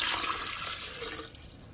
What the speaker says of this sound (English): He took a glass jar and poured in some water.